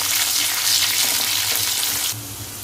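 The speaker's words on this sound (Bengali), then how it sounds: "আগে দিয়ে দিচ্ছি অল্প কাজু বাদাম আর কিশমিশ। এবার এগুলো ভালো করে একটু ভেজে নেব।" Cashew nuts and raisins frying in oil with potato and onion for Bengali chirer polau, a steady loud close sizzle with light stirring.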